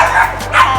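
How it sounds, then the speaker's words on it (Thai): A dog at a dog-friendly cafe in a shopping mall gives two quick, close, loud yipping barks in under a second. "สัมผัสบรรยากาศแบบว่าเสียงหมาเห่ากันนิดหน่อยนะคะ"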